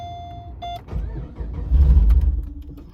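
Pontiac G8 cold start: electronic chimes, then the starter cranks briefly and the engine catches into a loud, deep rumbling idle up close.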